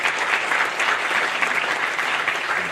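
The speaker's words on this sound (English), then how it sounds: "I would like to applaud her for that" Audience at a formal address marking the 30th anniversary of the Constitution breaking into applause, a dense, steady, fairly loud patter of many hands clapping throughout.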